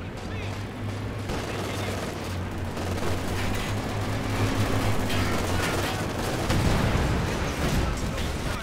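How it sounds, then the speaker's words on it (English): Tank guns and gunfire boom through a Company of Heroes 2 battle, dense and continuous over a low engine rumble, with a heavier blast swelling near the end. "Tank guns."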